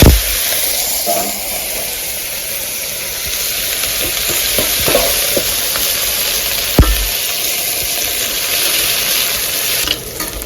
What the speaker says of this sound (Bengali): পেঁয়াজ, রসুন, কাঁচামরিচ, এটা যে তেল গরম হয়ে আসছে এটা পুরাটা দিয়ে দিব